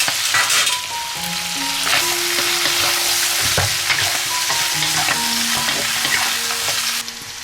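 Fried potato and lotus root strips are tossed and stir-fried in a small pan, a loud close continuous sizzle with scraping spatula strokes and clattering throughout.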